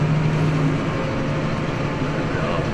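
A farm tractor's engine holds a steady low idle during stone-wall building, a constant, loud, even rumble with no change in pitch over a few seconds.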